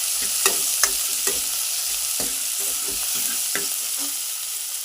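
Mutton curry masala frying in a pan while a spoon stirs it round, a bright continuous sizzle marked by a string of scraping strokes, close and loud with no voices.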